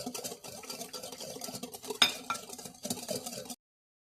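Cake batter of milk and sugar for an eggless chocolate cake being stirred in a bowl, a steady soft scraping and sloshing with light clinks of the utensil against the bowl, close and continuous.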